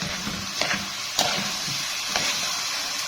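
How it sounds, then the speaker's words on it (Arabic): Rice being stirred and sautéed in a pot while cooking duck, giving a steady close sizzle with soft scraping strokes and a few louder clacks of the spoon against the pot. "بفضل اقلب في الرز معايا كده لحد ما يتشوح"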